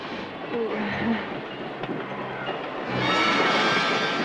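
A train from the Terror Train film trailer rumbles along with rolling rail noise that swells toward the end, faintly mixed with other trailer sounds.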